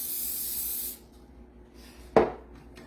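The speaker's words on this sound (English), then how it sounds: "we're going to take just a casserole bowl, and I'm going to spray it real good" A long hiss of aerosol cooking spray into a casserole bowl fires for about a second, then quiet, followed by a short knock or clunk near the end.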